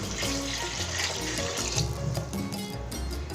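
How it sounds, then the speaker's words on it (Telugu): Water pours steadily into a cooking pot for mushroom pulao, a continuous close splashing rush with a gurgling undertone and no talking. "ఇప్పుడు వాటర్ యాడ్ చేసుకుందాం"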